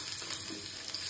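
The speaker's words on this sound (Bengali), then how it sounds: "ভালো করে ভেজে নেব।" Crushed garlic and ginger fry in oil left over from browning chicken, giving a close, continuous sizzle with no talking.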